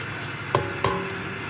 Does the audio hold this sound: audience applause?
no